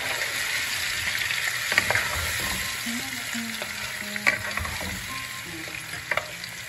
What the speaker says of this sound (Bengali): ভালো করে মশলাটা কষাই।